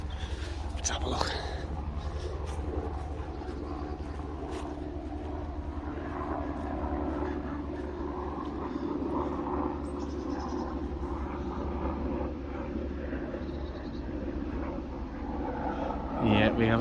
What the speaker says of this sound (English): Yeah, we have a chopper.